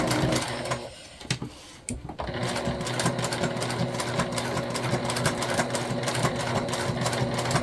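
A sewing machine stitches fabric in a fast, steady mechanical whir heard close up, starting and stopping a couple of times early on before running continuously, with faint talk in the background.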